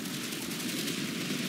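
Continuous gunfire in the video game Bullet Kaboom, a dense, even roar of rapid shots that sounds like sustained automatic fire, loud and unbroken for a moment.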